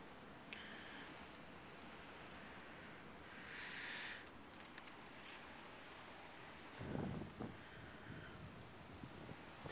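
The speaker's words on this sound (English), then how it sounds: "Still very windy too." Steady, muffled wind rush during a New York City blizzard, a constant broadband roar that swells briefly with a few gusts and light rustling.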